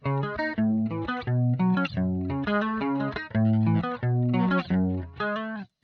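An electric guitar plays a picked chord pattern through a Roland JC-120 amp with a shimmering chorus effect, clear and close, ending with a short fade.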